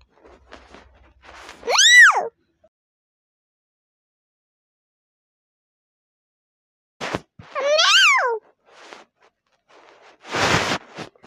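A voice imitates a cat with two separate drawn-out meows, spaced several seconds apart in silence, followed by a short breathy burst.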